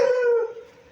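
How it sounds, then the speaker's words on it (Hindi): A single short dog bark with a howl-like tone, loud and close, fading quickly. "कुत्ता भौंक रहा है"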